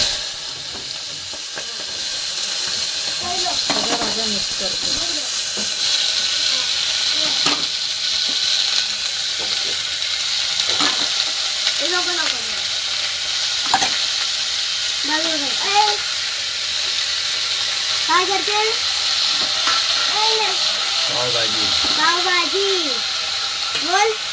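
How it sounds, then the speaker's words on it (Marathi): Cumin seeds hitting hot oil for a pav bhaji tempering give a steady, close hiss and sizzle. Someone talks over it in Marathi throughout. "जिरा जिरा टाकते थोडंसं फोडणीला"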